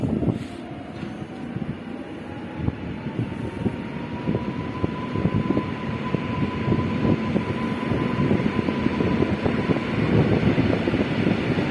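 An electric multiple unit train pulls away from a station platform, its motor whine rising steadily in pitch beneath broadband rumble and rail clatter that grows louder over about twelve seconds, with no voices.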